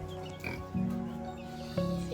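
A pig grunts and oinks in a few low, nasal bursts, close by, with a person's voice faintly in the background.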